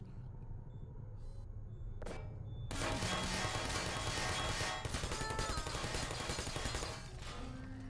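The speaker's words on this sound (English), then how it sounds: "I hate turrets." Sentry turrets in the video game Portal let loose a rapid, sustained burst of automatic gunfire that lasts about four seconds and then tapers off into a low rumble.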